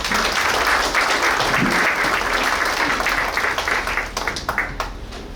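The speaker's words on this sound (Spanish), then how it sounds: "un aplauso por favor para las 3" An audience at a panel discussion applauds loudly and steadily for several seconds, then the clapping thins out and fades toward the end.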